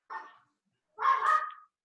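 A small dog gives two quick barks indoors, a short yap followed by a longer, louder one, with silence between and no talk over them.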